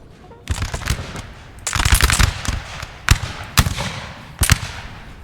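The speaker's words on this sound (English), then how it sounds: "Shots fired by the French. They are the first to fire." Musket volleys from French line infantry in a Napoleon: Total War multiplayer battle crackle out as ragged bursts of many overlapping shots, then sharper single reports and short rolling salvos.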